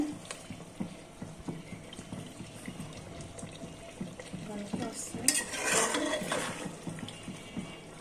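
Spicy beef being stirred in a pot, close and fairly quiet: a spoon scrapes and knocks against the metal in irregular strokes, with a low bubbling sizzle underneath and a wetter, louder swirl near the end.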